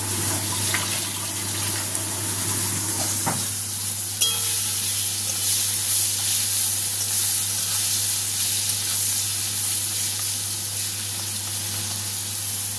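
Thick vegetable stalks frying in a pan, a steady close sizzle with a low hum underneath and a couple of faint knocks, no voices.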